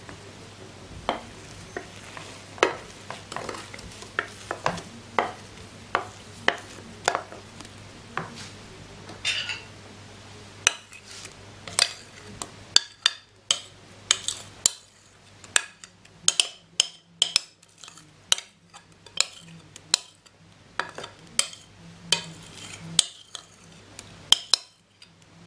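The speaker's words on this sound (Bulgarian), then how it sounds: "Разбърквам." A utensil stirs activated yeast into sweet kozunak bread dough in a bowl, with repeated sharp clinks and scrapes against the side, sparse at first and then quicker and denser, close and clear over a faint steady hum.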